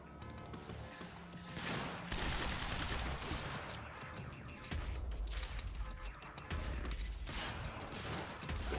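Heavy gunfire rattles through the Quantum Break action game, long loud bursts of automatic shots and crashes coming in waves with brief lulls between them.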